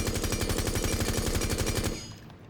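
Sledge's rifle in the video game Rainbow Six Siege fired full auto without recoil control or a recoil attachment, a loud rapid, evenly spaced stream of gunshots that stops near the end and leaves a fading tail.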